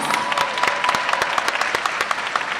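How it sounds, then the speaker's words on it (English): An audience at a university honors convocation claps vigorously, with individual sharp hand claps standing out from a steady, close round of applause. "let us give our honorees a big round of applause"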